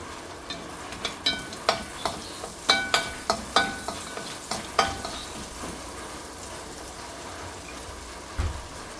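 Whole spices such as cinnamon, cardamom, star anise, curry leaves and cumin frying in a pan for vegetable kurma, with a run of sharp crackles and stirring clatters at a steady pace over a soft sizzle, then quieter frying near the end.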